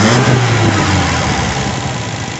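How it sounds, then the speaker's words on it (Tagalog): A car engine with an Aisan carburetor runs loud and close as it is revved, a dense rumbling roar that eases slightly over a couple of seconds, with no voices. "I-rev ko yung makina."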